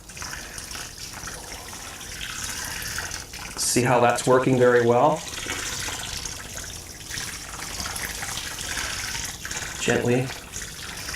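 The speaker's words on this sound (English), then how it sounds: "So I'm just going to fill this jug right up." Water runs steadily into a jug being filled over brewing grains for an all-grain stovetop home brew, a continuous pouring wash under a man's speech, with a few louder voiced moments.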